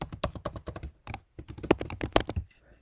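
Someone types a password on a computer keyboard, a fast, close run of crisp key taps in uneven bursts with a short pause midway.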